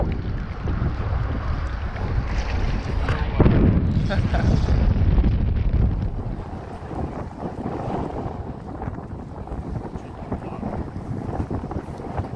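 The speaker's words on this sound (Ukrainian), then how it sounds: "дує максимально сильний вітер" Strong wind roars and buffets the microphone continuously by the Dniester River, loudest early on before easing slightly, with faint water movement beneath.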